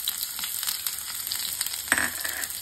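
Onion and green chilies sauté in a pan for chicken ball chowmein, a dense frying crackle with a louder stirring scrape near the end.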